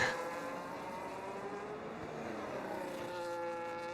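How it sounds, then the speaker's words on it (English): Race cars in a sim racing game run nose to tail in a slipstream at São Paulo, a sustained high engine whine with layered harmonics held at near-constant pitch, loud and continuous. "If you've ever heard a slipstream, this is a slipstream."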